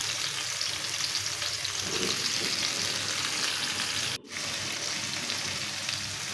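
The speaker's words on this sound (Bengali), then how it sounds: "তেলটা গরম হয়ে আসতেছে এখন আমি করলাগুলো দিয়ে দিব" Bitter gourd pieces fry in hot oil in a pan, giving a steady, close bubbling sizzle that runs throughout, broken once by a sharp click.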